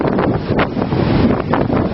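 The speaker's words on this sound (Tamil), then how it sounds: "இந்த பகுதியில் கடும் காற்று வீசி வருவதுடன்" Strong wind gusting through an exposed outdoor area during stormy weather, a loud, continuous roar with buffeting bursts on the microphone and no voices.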